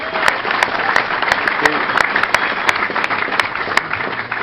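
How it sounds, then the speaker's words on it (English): A studio audience gives loud, sustained applause to welcome racing drivers Greg Murphy and Craig Lowndes onto a television panel show, with sharp individual claps and a cheer or two standing out above the steady roar. "Please put your hands together for Greg Murphy and Craig Lowndes."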